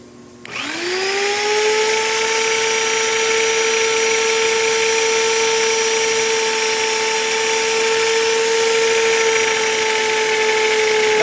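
A magnetic drill bores through metal during line boring: the motor spins up sharply, then holds a loud, steady whine with a high cutting hiss for about ten seconds, close and without talk.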